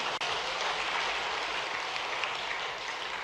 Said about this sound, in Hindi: थोड़ी ताली वाली बजा के आनंद भी ले सकते हैं।